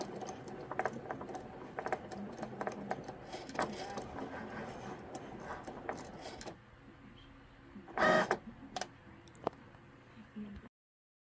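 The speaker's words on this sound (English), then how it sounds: "Now onto the Cricut and cutting out our little tag." A Cricut cutting machine cutting out a small paper tag gives a busy run of fine ticks and clicks for several seconds, then falls quieter, with a brief louder whirring burst near the end; nobody speaks.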